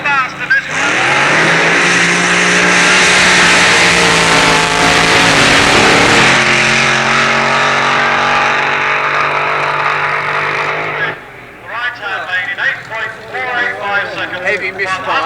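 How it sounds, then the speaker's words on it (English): Drag racing cars at North Weald in 1986 accelerating hard down the strip with a heavy misfire, a loud sustained engine roar that cuts off and then fades into rough, uneven engine noise, with a commentator talking over it. "Heavy misfire going up there."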